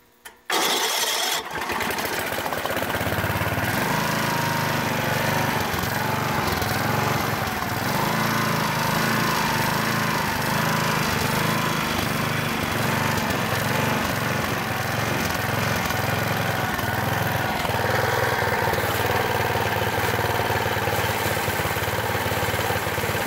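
An old engine, primed with starting fluid, cranks briefly, catches and fires up, then settles into a steady, loud, continuous run with a rough, uneven throb.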